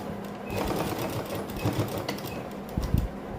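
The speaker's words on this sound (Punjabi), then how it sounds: "ਇੱਥੇ ਆਪਾਂ ਡਬਲ ਸਲਾਈ ਕਰ ਲਾਂਗੇ" A sewing machine stitches a double seam on a suit, a quiet rapid mechanical chatter in short bursts with brief pauses between runs, heard close.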